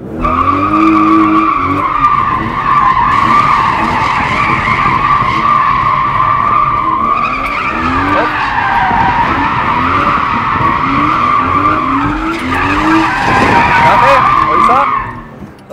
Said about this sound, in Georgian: გააკეთე ერთი სრული დონატი